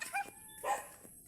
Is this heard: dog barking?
yes